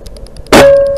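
Beeman 1357 airgun fired over a chronograph, one sharp loud crack with a metallic ringing tail, following soft ticking.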